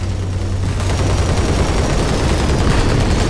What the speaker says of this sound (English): We got some Gatling gun.